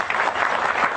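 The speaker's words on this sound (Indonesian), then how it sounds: "Tepuk tangan untuk dia." Audience applause at a talk by Cak Nun, a dense steady wash of clapping filling the room at even volume throughout, with no voices rising above it.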